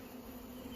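Honey bees buzzing inside a hive, a faint, steady hum with a sustained tone, brief and continuous, with no voices.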